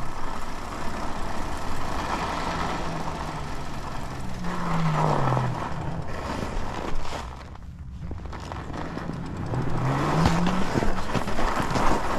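A car driving on icy, snowy roads, with a continuous rumbling road and engine drone, a few rising and falling tonal sweeps, and a brief dip midway.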